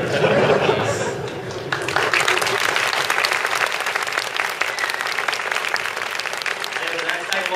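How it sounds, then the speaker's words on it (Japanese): A crowd at an Ingress game after party in Tokyo breaks into sustained, dense applause, loud and steady throughout, with scattered chuckles and chatter underneath. "もう一度大きな拍手でお送りください。"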